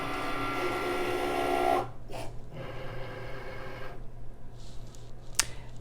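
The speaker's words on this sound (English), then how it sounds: "what it's doing right now, it's like a little robot. It's measuring the design." A craft cutting machine scans a design with its sensors, a steady mechanical whir for about two seconds, then quieter motor hums and stops, ending with a brief click.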